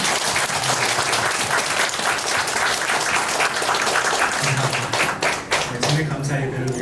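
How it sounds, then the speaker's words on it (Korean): A church congregation applauds together at a church founding service, dense continuous clapping from a large crowd filling the room with a steady roar, voices murmuring underneath. "하나님께 영광의 박수 한번 같이 해드릴 수 있습니다"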